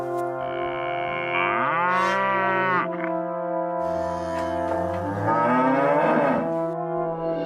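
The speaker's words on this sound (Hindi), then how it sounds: "दूध वाला गौशाला से गाय को चारा लाकर देता है और गाय रंभाने लगती है।" A cow in an animated Hindi story gives long, drawn-out moos, two separate calls over a few seconds, loud and processed with a warbling, effect-laden tone.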